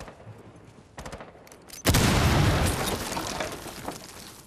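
A grenade bursts in a Rainbow Six Siege match, a sudden loud blast that follows a few scattered shots and decays into a long rumbling, crackling tail.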